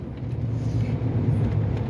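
The 6-liter engine of a 3/4 ton truck idles close by with a steady low rumble and a slight uneven pulse. Nobody speaks.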